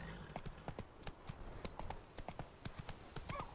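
Horse hooves clip-clopping at a steady gallop in The Witcher 3 video game, a quick repeating beat of hoof strikes that runs for the whole stretch over faint game ambience.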